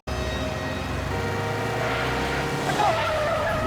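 A motorbike skids with tires squealing in a TV crime drama scene, a sustained loud screech over engine noise that builds toward the end, with no talk over it.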